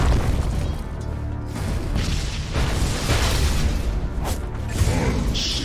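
A tower under attack in the Dota 2 video game brings a dense, continuous mix of booming impacts, bursts and clashing combat effects, loud and busy throughout without a break.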